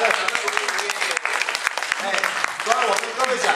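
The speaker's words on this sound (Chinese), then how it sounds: "要不要给我掌声？" Audience applause at a corporate talk about food safety: a burst of clapping from a crowd, with a voice speaking over parts of it.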